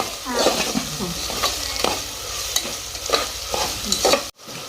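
A spatula scrapes and stirs tomatoes and salt sizzling in a pan in repeated loud, close strokes over a steady fry hiss, then cuts off abruptly near the end.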